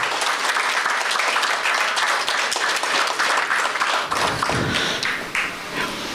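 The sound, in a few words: applause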